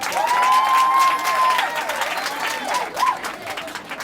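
School prize-giving audience clapping and cheering, a loud sustained wash of applause with a high whistle or ululation on top, fading slightly toward the end.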